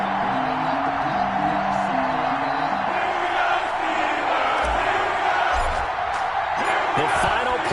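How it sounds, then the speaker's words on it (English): A stadium crowd roars in an EA Sports NFL game before the Minnesota Vikings face the Pittsburgh Steelers, a loud sustained wash of cheering with a commentator talking over it. "This crowd is ready as their guys get set to match up between the Minnesota Vikings and the Pittsburgh Steelers."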